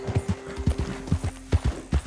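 Hooves clip-clop in an even, repeated beat as a horse is ridden at a steady pace in Red Dead Redemption 2, close and moderately loud with nothing else over it.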